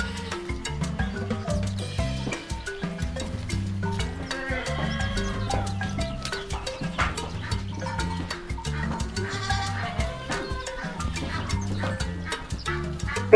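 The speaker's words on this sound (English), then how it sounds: "Goat." A goat bleats repeatedly, wavering calls rising and falling over about thirteen seconds, moderately close against a quiet background.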